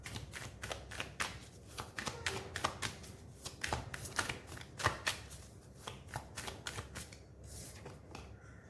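Tarot cards are shuffled by hand in a steady run of quick, crisp riffling slaps and flutters, close and clear throughout with no talking.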